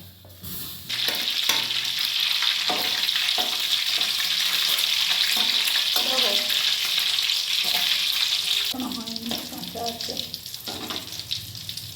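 Oil heating and food frying in a kadai while making homemade bhetki fish-trimming chops, a loud broad sizzle that swells quickly and holds steady with clatters and scrapes, close by, fading slightly near the end.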